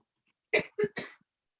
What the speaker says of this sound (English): my asthma is acting up and I cough a lot when I talk lately